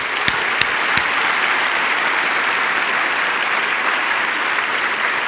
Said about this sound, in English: Please, let's give them a warm round of applause.